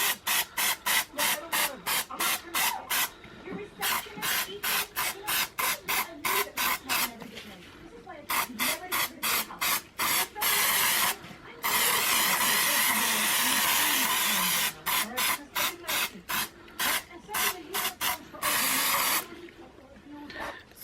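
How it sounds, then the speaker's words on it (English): Repeated short hissing bursts of a spray bottle spraying cleaner onto a suede Celine bag, close and fairly loud, coming in quick clusters with brief pauses and a longer steady hiss midway. "So I'm just gonna spray it some more."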